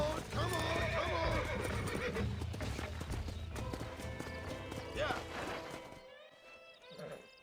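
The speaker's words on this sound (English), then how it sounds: "the stallion's getting away. Chase him down and bring him back." A stallion in the Red Dead Redemption video game gallops with steady clip-clop hoofbeats and gives loud, close whinnies over a busy game soundscape, with hints of voices and the gallop thinning out near the end.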